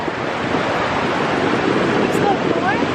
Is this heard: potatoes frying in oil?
no